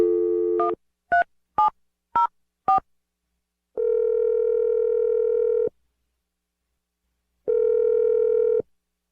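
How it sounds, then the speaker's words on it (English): A steady dial tone, then five quick beeping dial tones, followed by two long ringing tones with silence between them. "I'm going to dial the phone number."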